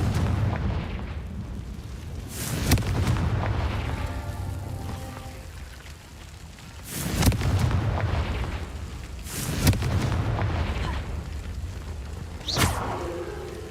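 Confringo fire spells exploding in the Hogwarts Legacy video game, several loud booming blasts landing every few seconds over a rumbling game soundscape.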